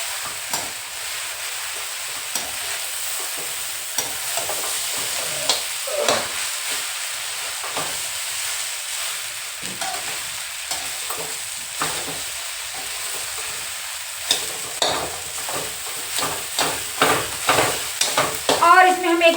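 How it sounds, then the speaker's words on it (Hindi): Food stir-roasted in a pan for a long time, with steady frying sizzle and hiss under repeated scraping and stirring strokes that grow busier and louder toward the end. "अब हम इसको बहुत देर तक भूंजेंगे, एकदम भूंज के"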